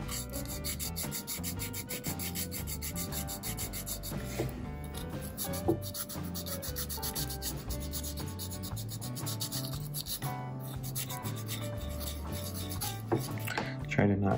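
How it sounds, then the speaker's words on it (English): Small bits of 220 grit sandpaper rubbed steadily by hand on a Kodak Instamatic 500 camera, a continuous close scratchy rasping with a faint persistent high whine in the background. "I got some little tiny bits of sandpaper. This is 220 grain,"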